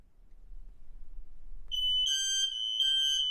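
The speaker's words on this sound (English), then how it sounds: "One good thing about the wired smoke detectors is that when one goes off, all of them will go off." Wired smoke detectors set off with a spray tester break from near silence into a loud, shrill piercing tone that holds steady with slight pulsing, several units sounding together.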